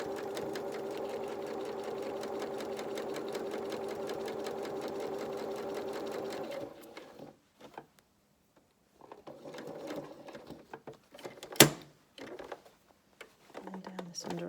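A sewing machine runs in a steady stitching whir straight across the top seam of a garment for about six seconds, then stops, leaving quiet handling noises and a sharp click.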